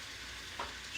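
Ground beef sizzling and starting to brown in a hot pan, a steady close frying hiss with a brief stir or spatter near the middle.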